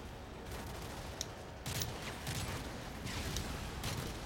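Friendly gunfire in the video game Call of Duty: Modern Warfare 3 comes as muffled, fairly distant bursts of automatic fire repeating every second or so over a constant low rumble.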